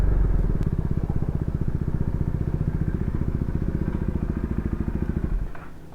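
A modified D400 motorcycle exhaust idles loud and close in a fast, steady throbbing pulse, then cuts off abruptly near the end.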